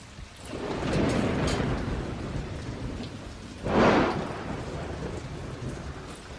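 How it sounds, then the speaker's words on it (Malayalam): Heavy rain pours steadily outdoors while thunder rumbles twice, a long roll early on and a louder, sharper crack near the middle, with no voices. "ഭയങ്കര മഴ പുറത്ത്."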